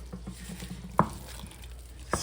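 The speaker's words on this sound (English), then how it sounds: "Stir it up." A spoon stirs soft mashed potatoes with butter, salt and pepper in a pot, giving a few quiet, thick squelching pats and one sharper knock against the side, close and low with no voices.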